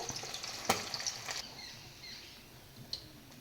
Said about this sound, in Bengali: মাছগুলো হালকা এপাশ ওপাশ করে ভেজে নিয়ে নামিয়ে দেব